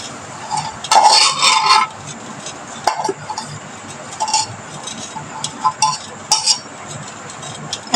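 Fried bitter gourd and potato tipped out of a pan, with a burst of metallic scraping and clinking early on, then scattered softer clinks and scrapes against a dull kitchen background.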